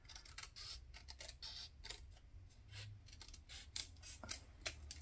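Scissors snip through paper for a journal page, a quiet, close series of short crisp cuts at an irregular rhythm, with no talking.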